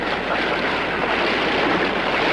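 A sailing boat heels hard under way, water rushing and spraying over the decks in a dense, loud, unbroken roar of wind and sea close around the microphone.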